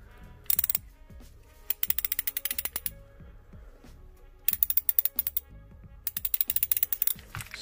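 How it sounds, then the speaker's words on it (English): Bursts of rapid, fine clicking come from the ratchet of a Workpro hand screwdriver being turned back and forth, four distinct runs of crisp ticks, close and clear with no talk. "Super fine ratcheting mechanism."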